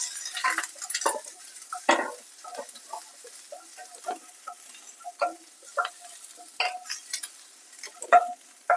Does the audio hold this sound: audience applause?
no